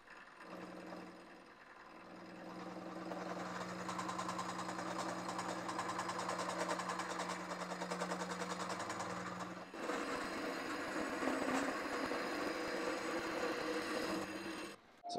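A steel camelback straight edge being machined while clamped in a vise gives a steady, droning mechanical whine with a strong tonal hum, turning harsher and grittier partway through, with no talking.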